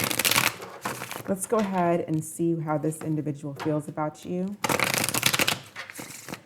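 A tarot deck gets shuffled by hand in brisk, rustling bursts at the start and end, with a person talking in between.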